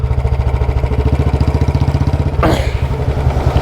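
A modified BS6 Royal Enfield Bullet 350 single-cylinder engine thumps in a steady, loud, even beat through its short Punjab exhaust, broken briefly by a rushing sweep of revs before the lumpy thudding settles back.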